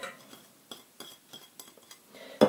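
A spoon stirring sour cream into a cabbage patty filling with cheese and brynza in a bowl, giving soft repeated scrapes and clinks, ending in one sharper, louder knock against the dish.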